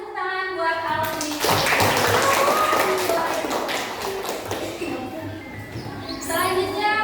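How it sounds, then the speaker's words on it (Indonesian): Elementary school children clapping in a classroom for a classmate who answered correctly, a loud, fast burst of many small hands, with a teacher speaking before and after it. "Kasih tepuk tangan buat Alvin."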